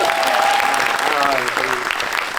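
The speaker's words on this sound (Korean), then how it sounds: "박수 한번 보내주세요" A theater audience at a screening and Q&A for the Netflix film Carter gives loud, steady, sustained applause, with a voice speaking faintly over the clapping.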